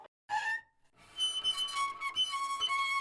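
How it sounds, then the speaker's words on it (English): Squeaky string-cleaning noises from a double bass sampled in an English bass Kontakt library: a short high squeak, a pause, then a longer run of bright, whistling squeals with a thin sustained tone, close and fairly quiet. "This is the sound that you get when you're cleaning the strings sometimes."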